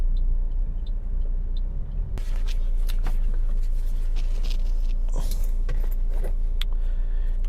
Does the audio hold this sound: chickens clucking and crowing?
no